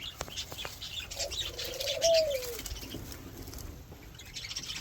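Budgerigars in an aviary chirp and chatter continuously, with soft wing flaps and one drawn-out call that sweeps downward midway.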